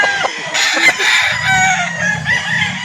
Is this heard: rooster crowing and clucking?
yes